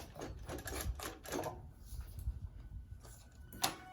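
Singer 20U style industrial sewing machine running lock stitches on embroidery work, a rapid mechanical clatter in short bursts with brief pauses, near and moderately loud, with no talking.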